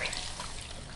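Liquid dribbles and trickles from a ShamWow absorbent towel as it is wrung out, a brief close hissing splatter lasting about a second.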